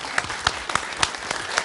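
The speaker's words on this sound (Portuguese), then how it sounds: "Eu quero uma salva de palmas pela sinceridade dela." An audience claps in applause, a thin, scattered patter of separate hand claps rather than a dense ovation, fairly quiet and brief.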